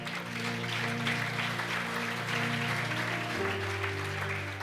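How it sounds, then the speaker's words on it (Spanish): A church congregation claps for Jafet, the applause moderately loud and steady, with sustained organ or keyboard chords playing underneath throughout. "un fuerte aplauso para Jafet, por favor"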